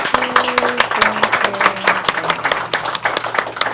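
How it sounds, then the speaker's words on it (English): Clapping from a crowd at a television talk show taping, loud and continuous over a few seconds, with a low tone and a few voices faintly beneath. "So we want to give her a round of applause one more time for Vincie Martin, please."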